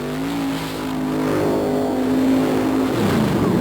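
A big 468 cubic inch Chevy engine in a mud racing truck roars loud and close at a racing event, holding a sustained revving note before dipping and rising again.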